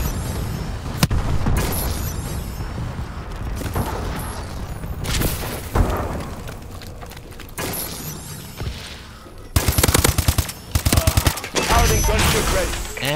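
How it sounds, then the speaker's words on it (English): Bombing run in an online shooter video game: dense, loud rapid gunfire and repeated explosive booms, with machine-gun bursts toward the end, continuous and close throughout. "Friendly bombing run incoming."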